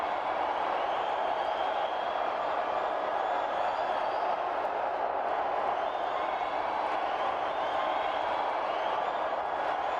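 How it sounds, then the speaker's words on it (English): A hockey arena crowd at a BMHL play-in game between the Toronto Icemen and Montauk Mariners roars in a steady, loud wall of cheering and noise that holds without a break throughout. "This crowd is going wild right now."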